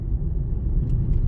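A car's low engine rumble and road noise build gently as it slowly speeds up on a driving test route in Merrylands, steady and close from inside the cabin, with no talk.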